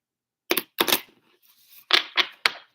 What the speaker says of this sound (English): Sometimes it's hard to shuffle with less cards.